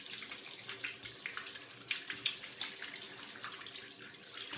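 A tap runs steadily as the water warms up for shaving, a continuous close hiss and splash with no talking.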